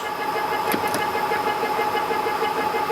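Lathe carriage running under longitudinal power feed, a steady mechanical whir with a constant hum and a couple of brief clicks, close and continuous.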